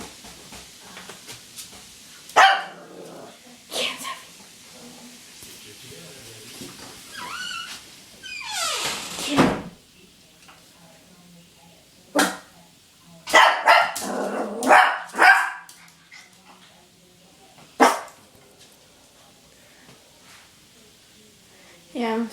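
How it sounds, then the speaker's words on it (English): A small female puppy barks at her own reflection in a mirror indoors, giving scattered sharp barks and yips in bursts with pauses between, close and fairly loud, with a voice talking now and then. "she's just been randomly barking at herself in the mirror."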